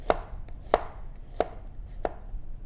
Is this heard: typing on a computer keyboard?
no